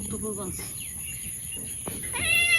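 A cat meows twice, close by: a short cry at the start, then a rising, higher-pitched meow near the end, with quiet background in between.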